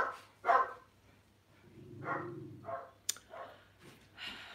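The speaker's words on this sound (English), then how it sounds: "They're out the back barking now." Dogs bark out the back of a house in a few separate bursts, moderately distant and fairly quiet, with short yips between them and no one speaking.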